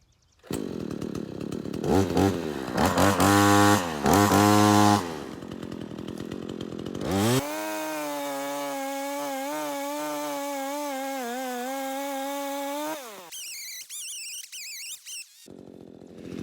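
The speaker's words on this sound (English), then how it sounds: "this will actually be the first real tree I've ever chopped down with the chainsaw" A chainsaw roars close by, revving in bursts and then holding a steady high drone as it cuts down a tree, before sputtering and revving again.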